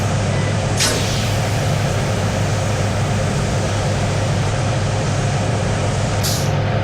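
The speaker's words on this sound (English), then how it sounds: "Wait for all of the air to exhaust itself from the brake pipe." Air vents from the brake pipe of a New Haven Railroad GE EF-4 electric locomotive in Train Simulator 2017, a loud, continuous rushing hiss broken by two brief high clicks.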